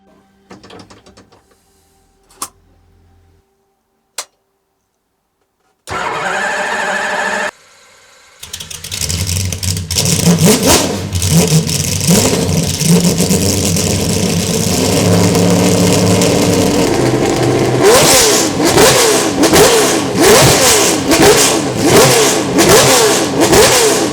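After some mechanical clicks and whirring, a Jaguar racing car engine fires up and idles loudly, then revs repeatedly in sharp, rising bursts.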